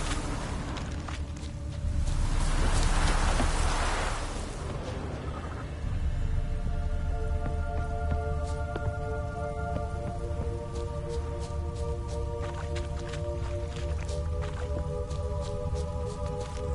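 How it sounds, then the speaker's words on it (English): Steady rain falls in The Witcher 3, a soft continuous patter with a brief heavier swell early on, layered under quiet tonal game sounds. "Looks like rain."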